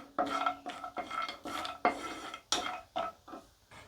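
Cashew nuts stirred in hot ghee in a pan, giving a steady series of scraping, clinking strokes of a spoon against the metal, close and rhythmic with brief pauses between.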